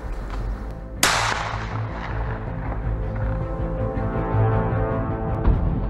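A single heavy sniper rifle shot fired at a target about 1000 m away cracks sharply and loudly, then rolls into a long echoing tail over steady low rumble, with a fainter thump near the end.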